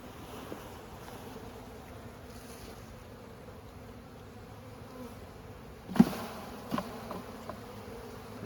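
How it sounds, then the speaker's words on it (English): A steady, low insect drone fills the scene, many feral honeybees humming together close by in a hive inside a giant cactus, with a few soft knocks and handling bumps partway through. "there's so many bees in there tending to her"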